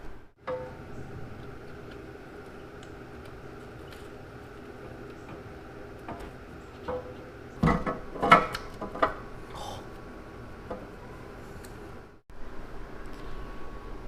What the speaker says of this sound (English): go ahead and grab your manifold, just slide it over nice and easy